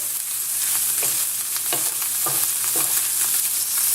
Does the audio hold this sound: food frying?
yes